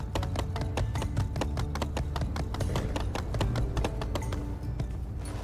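Rapid, steady clip-clop of horse hooves on a hard surface in the video game My Time at Sandrock, dense and continuous, over a low background hum.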